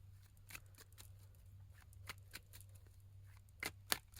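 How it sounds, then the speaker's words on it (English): Tarot cards shuffle softly in a long, quiet sequence of light papery slaps and flicks, spaced irregularly over a low steady hum, with a couple of sharper snaps near the end. "This is a long shuffle."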